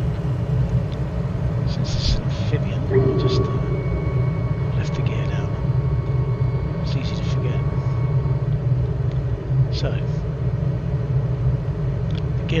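Steady droning engine of an amphibian aircraft in flight near Lands End Airport, a constant loud hum throughout with someone talking over it.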